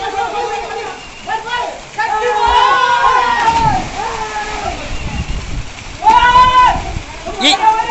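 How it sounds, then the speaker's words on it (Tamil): Swimmers splash in a sixty-foot-deep village well, bursts of churning water and slaps rising and falling across the span with excited voices and chatter over them, a louder splash near the end. "அறுபது அடி ஆழமான கிணற்றில் அழகான நீச்சல்"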